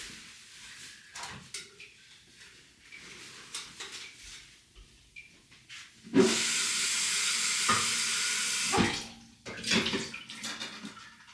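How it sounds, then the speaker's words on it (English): Water runs into a kettle as it is rinsed out in a kitchen, a loud burst of splashing flow lasting a few seconds between quieter clatters and handling sounds. "I always rinse my kettle out right before I use it."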